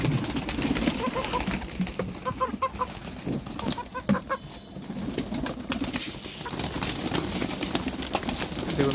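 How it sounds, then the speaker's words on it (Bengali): Pigeons being fed wheat make soft cooing and clucking calls, with pecking and scratching taps and light rustling nearby, mixed with a few other fowl noises. "এবার চলুন পায়রাদের গম দিয়ে একটু একটু করে।"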